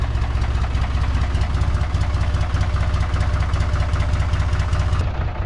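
A tractor engine idles steadily with a deep, rumbling low drone and constant vibration, close by and loud, cutting off sharply near the end.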